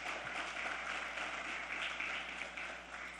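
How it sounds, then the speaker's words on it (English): A crowd applauds throughout Prime Minister Senator Stuart Young's address, with dense, steady clapping that holds evenly, then eases slightly near the end. "I'd like us to give her a round of applause"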